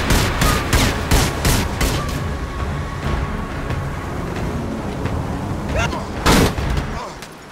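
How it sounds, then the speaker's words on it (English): Rapid bursts of gunfire from a gun in a machinima video game scene, a fast volley of sharp shots up front, then sustained rumbling action noise and another loud shot near the end. "The guy is shooting a gun at my back."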